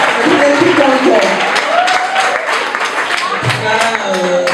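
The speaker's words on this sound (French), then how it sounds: "Applaudissons très fort pour l'oncle." Wedding guests applaud in a steady crowd clapping that runs throughout, while an amplified voice talks over it and other voices call out.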